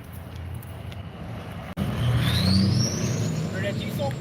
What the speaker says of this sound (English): I hear a diesel. That could be a tow truck.